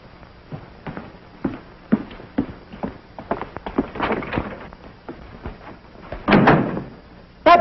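An interior door swings open and shuts as someone walks in unannounced, with a string of footsteps and knocks, then a louder thud and creak near the end.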